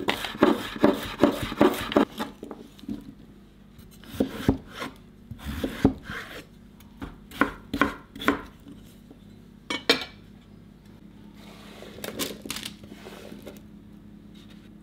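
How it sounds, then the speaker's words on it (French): Carrots chopped with a knife on a cutting board, sounding as a run of sharp, close knocks that cluster in quick bursts with pauses between them, mixed with light scraping and clinking of kitchen utensils. "On va couper pareil les carottes."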